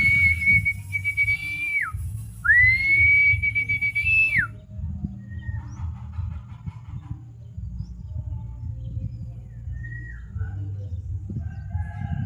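Whistling tones sweep and stop in two long phrases over steady low crowd and background rumble at an outdoor pigeon racing derby in McArthur, with a few faint chirps afterward and brief murmured voices.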